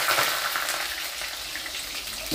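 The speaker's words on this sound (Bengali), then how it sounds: "এবার আলু ছাড়ছি।" Chunks of potato drop into hot oil already tempered with cumin seeds, bay leaf and dried chilli, setting off a loud, steady hiss and crackle of frying heard close, with no talking.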